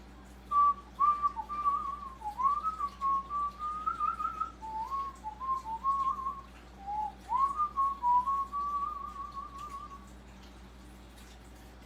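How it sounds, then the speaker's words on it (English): A person whistles a meandering, wavering melody alone for several seconds in a home kitchen during soup cooking, the tone sliding up and down in short phrases with brief gaps, fairly close and clear. "I did that whistle."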